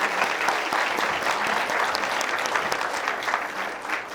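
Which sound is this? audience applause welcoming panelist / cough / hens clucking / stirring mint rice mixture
audience applause welcoming panelist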